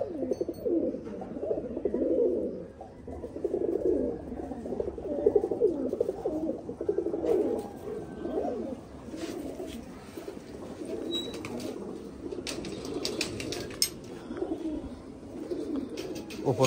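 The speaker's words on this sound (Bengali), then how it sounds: "এই আমাদের নর সব পায়রা মোটামুটি আজকে ধূপ উঠেছে বলে সবকে রোদে দেওয়া হচ্ছে।" Male pigeons in a high-flying pigeon loft set out in winter sun coo continuously, overlapping low rolling calls from several birds close by, with occasional chirps and rustling.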